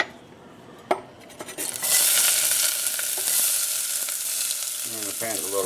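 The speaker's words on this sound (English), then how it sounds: "pan's hot, olive oil going in. Use as much as you want. And we'll put the onions in there first." Onions hit a hot pan of olive oil and burst into a loud, steady sizzle after a few clanks and stirring scrapes, the frying continuing close up with a brief voice near the end.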